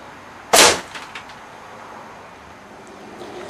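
An arrow tipped with an Atom broadhead strikes a foam target in a single sharp, loud impact, followed by brief faint rattles and quiet outdoor background.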